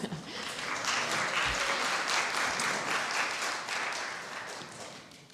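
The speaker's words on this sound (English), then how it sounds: "We generally don't allow applause." Audience applause breaks out at a city council meeting, a dense, sustained wash of clapping from the room that swells, holds for several seconds, then tapers off.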